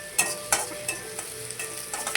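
Onion and curry leaves frying in oil for a tempering, a close, steady sizzle broken by quick spatula stirring strokes at a regular pace.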